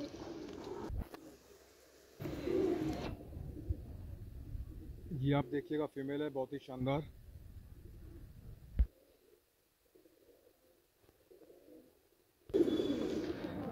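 Long-nailed Madrasi pigeons coo in a short burst of throaty pulsing calls, close by, between stretches of someone talking.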